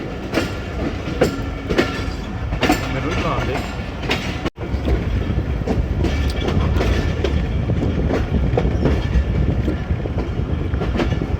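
Rhythmic clickety-clack of wheels and a steady rumble from inside a moving passenger train just after departing Wazirabad Junction, loud and continuous with a momentary dropout partway through.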